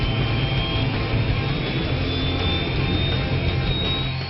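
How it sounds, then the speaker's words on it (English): Twin Shakti turboshaft engines of an LCH light combat helicopter spinning up, a loud steady turbine roar with a high whine slowly rising in pitch, heard close and continuous. "The rumble of the twin Shakti turboshaft engines come to life, rapidly turning the rotors into a steady chop."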